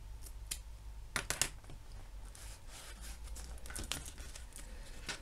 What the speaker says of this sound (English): take a little pair of scissors and trim it